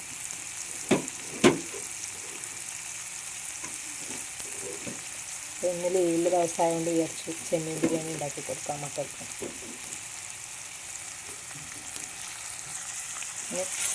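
Onions fry in a pan for prawn biryani with a steady, moderate sizzle and occasional stirring clicks, while someone speaks over it through the middle stretch.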